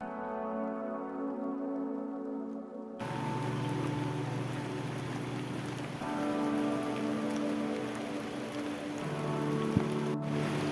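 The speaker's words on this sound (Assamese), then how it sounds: "বৰষুণ দি দিলে আৰু কি হ'ব আজি" Rain falls steadily on a surface outdoors on a trek toward Glaw Lake in Arunachal Pradesh, a close continuous patter that starts abruptly and holds at an even level, with a low engine-like hum beneath.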